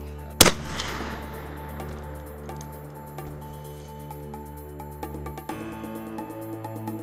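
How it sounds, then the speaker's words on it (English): A single sharp rifle shot at a wild boar cracks loudly near the start, followed by a fading echo across an outdoor hunting ground with a steady low hum underneath. "our Spanish guest Alberto decided to shoot this boar."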